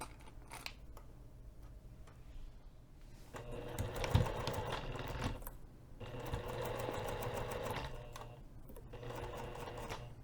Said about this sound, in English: Go ahead and put your zipper foot on your sewing machine, and we're going to be stitching this top pinned edge using 1/4 inch seam allowance.